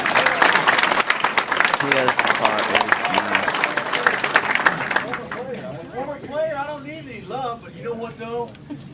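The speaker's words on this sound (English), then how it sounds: "Give him another round of applause, will you please?" An audience gives Rex Sudler a loud round of applause with dense clapping and crowd noise. It tapers off midway, and someone talks over the fading claps.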